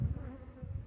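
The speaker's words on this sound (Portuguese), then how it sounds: "Cada pouco uma abelha visita a flor. É um vai e vem de abelha na lavoura aí." Bees buzzing around flowers in a crop field, a steady low hum that swells and fades faintly as they fly past, with no talk.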